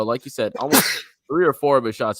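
One sharp, close sneeze bursts out between stretches of commentators' talk, a sudden breathy blast that briefly interrupts the speech.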